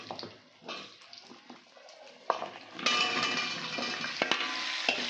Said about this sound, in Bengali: আলুটা তো ভেজে তুলে নিইনি, এমনি এর মধ্যে দিয়ে ভেজে নেবো। শুকনো লঙ্কা তেজপাতা দিলাম, আলু দিলাম